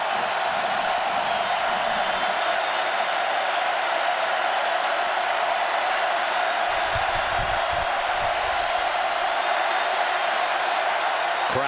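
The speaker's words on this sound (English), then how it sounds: "Crowd is into it for the defense." Football stadium crowd at an Auburn versus LSU college game roars steadily for the defense, a broad, continuous wash of cheering with some talk in the background.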